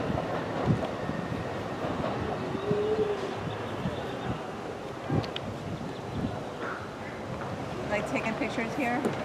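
A train passes through Fullerton station, its broad rumbling rail noise steady and fairly close, with wind buffeting the microphone and people talking nearby.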